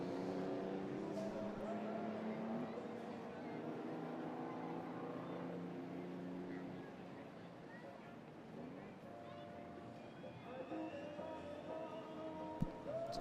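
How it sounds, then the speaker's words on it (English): Historic Frazer Nash race cars accelerating out of a corner at a racing circuit, engines droning and revving steadily at a distance, with a race commentator talking continuously over them. "They come up out of turn 3 very equally matched, these Fraser Nashes, and they really are trying hard."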